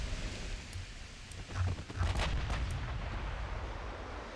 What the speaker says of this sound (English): 16-inch guns doing the work.